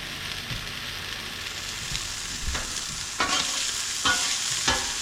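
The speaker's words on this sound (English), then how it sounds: "Let it cook. You don't keep flipping the burgers." Slider burger patties sizzle steadily on a hot griddle, a constant close hiss with a few sharper pops and scraping bursts near the end.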